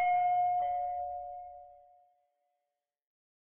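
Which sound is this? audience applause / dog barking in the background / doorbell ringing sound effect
doorbell ringing sound effect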